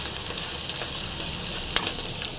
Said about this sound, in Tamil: எல்லாத்தையும் போட்டு நல்லா ஃப்ரை ஆகட்டும்